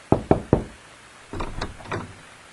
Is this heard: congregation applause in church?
no